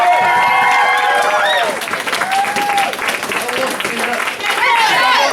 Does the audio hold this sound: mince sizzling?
no